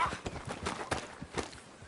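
Horse hooves clip-clop at a steady walking rhythm on the ground in Red Dead Redemption 2, close and moderately loud, with faint talk in the background.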